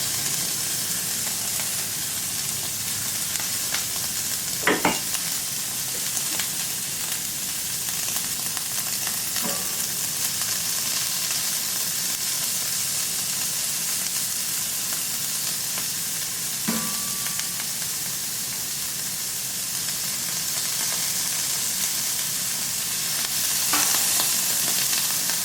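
Ham frying on a Camp Chef FTG600 flat top grill for an omelette, a steady, broad sizzle and hiss running unbroken throughout, with a few faint scrapes and clinks of a spatula.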